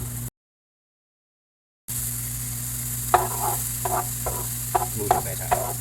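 Onions sautéing in a pan while steak is being made: a low steady sizzle under a faint hum, with a few sharp utensil scrapes and stirring clicks near the end, close by, no talk.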